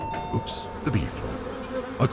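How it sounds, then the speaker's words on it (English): A swarm of angry bees buzzes in a video game, a dense droning hum with whining pitches rising and falling, loud and continuous throughout. "3 million angry bees?"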